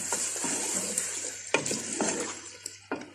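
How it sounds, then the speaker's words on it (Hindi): A whole chicken frying with garlic in a pan gives a close, steady sizzle broken by several scraping stirs and light clinks against the pan. "ये होल चिकन है, पूरी चिकन है, इसको मैं इसके साथ फ्राई करूंगी।"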